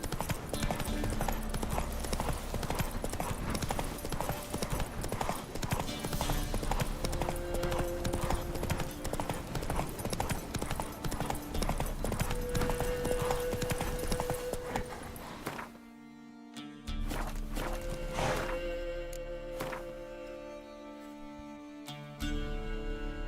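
Roach, the horse in The Witcher 3 Wild Hunt, gallops with rapid, continuous hoofbeats over loud game music and ambience, then a short dip near the end before the hooves and music return.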